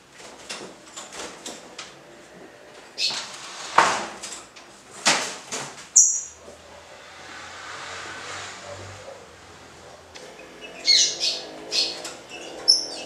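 A green-winged saltator (trinca-ferro) kept in a cage gives several short, loud song bursts, spaced apart with brief pauses, over quiet background rustling and a faint low hum from a passing car.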